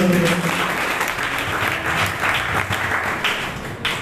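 A church congregation claps together, a dense steady patter of many hands filling the space for several seconds, with a voice briefly audible at the start.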